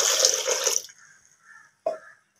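Water poured into a pot of lentils with turmeric and asafoetida for hotel-style tiffin sambar, a loud steady pour that stops abruptly, followed by faint clinks and a brief splash.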